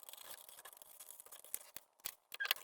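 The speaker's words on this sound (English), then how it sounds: "we're using paper scissors for this and not our fabric scissors" Paper scissors snip through paper in a quiet series of short, crisp cuts and rustles, irregularly spaced with a few sharper snaps toward the end, close and faint with no talk.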